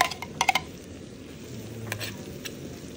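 Garlic stirred into butter just starting to melt in a pan for butter garlic shrimp, with a few quick clinks of a utensil against the pan early on, then a soft steady sizzle.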